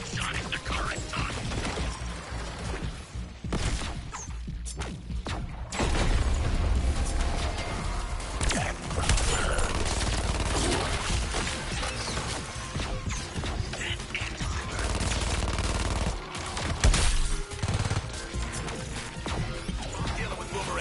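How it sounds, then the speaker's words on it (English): Aerial bombardment in Suicide Squad: Kill the Justice League sets off a long, busy run of heavy explosions, crashes and clattering mechanical debris, loud and sustained with several bigger booms amid game effects and faint voices. "didn't order the aerial bombardment"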